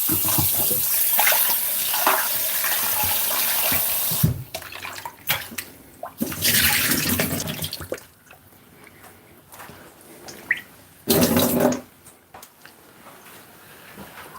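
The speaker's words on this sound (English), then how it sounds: "Just gonna run some cold water and wash them off properly." Cold water runs from a kitchen tap to rinse raw chicken, a steady splashing stream with bursts and pauses as the meat is moved under it, close and alone without talk.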